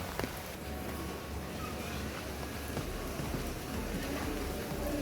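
Steady rain falls over a garden in Baguio City in the Philippines, a continuous soft hiss of drops with faint low background rumble and no clear talk.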